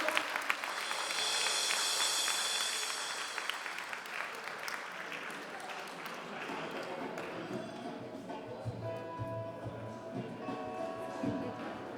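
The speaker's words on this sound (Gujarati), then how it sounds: "એકવાર જોરદાર તાળીઓથી વધાવી દેવામાં આવે" An audience at a Paryushan Maha Parva religious gathering breaks into loud, sustained clapping that swells early, then gradually thins and fades while faint talk and room noise carry on beneath.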